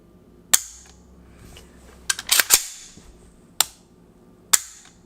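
Shots from a 12.5-inch AR rifle with a single-stage trigger crack out sharply, one at a time with gaps between them, plus a quick tight cluster in the middle.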